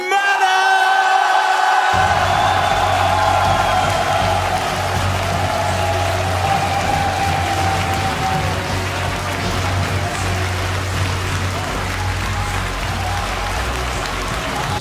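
A loud home crowd cheers and applauds for Polish StarCraft 2 player MaNa at a WCS Premier League quarterfinal esports event, a dense roar with whoops and yells sustained throughout.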